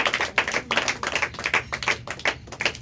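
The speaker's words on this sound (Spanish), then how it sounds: "un aplauso al Señor nuestro Dios" A church congregation claps in a quick, steady rhythm during a Spanish-language worship service, the beats evenly spaced and moderately distant.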